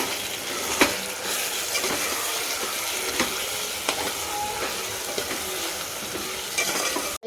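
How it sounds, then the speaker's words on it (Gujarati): Moraiyo and peanuts are stirred in a frying pan, making a continuous close sizzle broken by a few sharp spatula scrapes and knocks against the pan. "હવે આપણે એને કરી દેવાનું છે મિક્સ"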